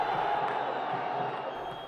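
Football crowd in a stadium at an Al-Faisaly match, a dense roar of cheering and shouting at a distance, steady and then fading slightly.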